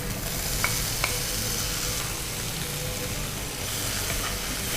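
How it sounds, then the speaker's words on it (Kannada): Chopped onions and tomato frying in a pan, a steady loud sizzle with stirring and a couple of light utensil taps. "ಈರುಳ್ಳಿ ಕಂದು ಬಣ್ಣ ಬರುವವರೆಗೆ ನಾವು ಇದನ್ನು ಚೆನ್ನಾಗಿ ಫ್ರೈ ಮಾಡಬೇಕು"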